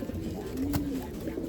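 A racing pigeon gives a single soft, low coo, close and faint against a quiet background.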